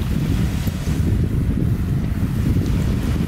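Steady wind buffeting a microphone on open water near the beach, with continuous low rumble and gusty noise throughout, no voices.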